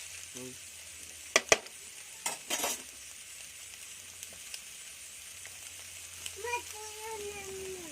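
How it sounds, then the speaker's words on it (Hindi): Noodles tossed and stir-fried for Kolkata-style egg chowmein, with a low sizzle under scattered sharp clatters of a spatula against the pan and a few soft metallic scrapes near the end. "इसमें डालेंगे हम लोग नूडल्स।"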